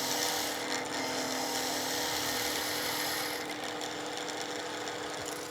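A wood lathe spins a workpiece while a skew chisel, bevel leading, cuts a taper, giving a steady, loud, continuous whirring hiss with a shift in tone partway through; no one talks.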